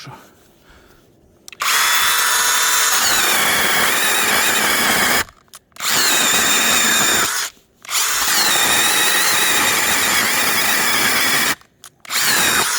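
Battery-powered model 201 saw cutting oak wood in several loud, steady bursts, each starting and stopping abruptly with short silent gaps between, the motor whining high and even.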